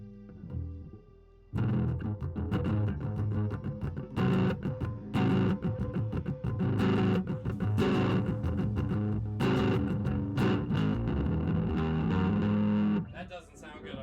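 Loud, heavily distorted bass guitar riffing with punchy, sustained low notes and brief pauses, played continuously for most of the stretch.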